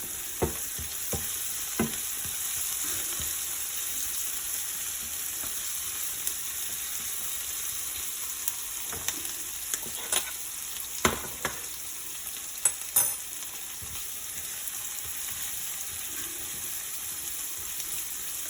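Green chillies and curry leaves fry in hot oil in a pan, a steady soft sizzle with scattered sharp clicks and pops of spatula scraping, heard alone without speech.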